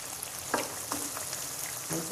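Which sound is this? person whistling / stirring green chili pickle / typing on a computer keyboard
stirring green chili pickle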